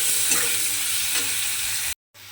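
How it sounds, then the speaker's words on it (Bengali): Onions sizzle steadily in hot oil, a constant hissing fry with a faint stirring scrape, before cutting off briefly near the end; the onions are browning as a base for a rohu fish and ridge gourd curry. "পেঁয়াজটাকে একটু লাল করে প্রথমে ভেজে নিতে হবে"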